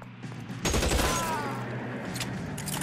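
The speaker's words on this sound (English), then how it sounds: "Oh, thank God the shooting's over." Video game gunfire erupts as a loud burst of rapid shots, a fusillade that kicks in suddenly and trails off into rumbling echoes.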